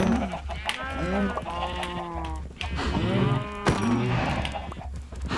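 Several loud cow moos from a video game farm, long drawn-out calls close by, one after another with short breaks between them and no talking over them.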